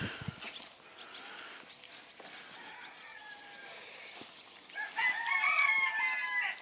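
Phoenix chickens cluck and a rooster crows nearby in a pen, the crow rising loudly near the end over a steady hiss of pen noise.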